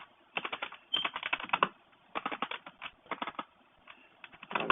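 Bursts of quick key clicks on a computer keyboard, close and crisp, come in uneven clusters separated by short pauses while someone types code for a calculator program.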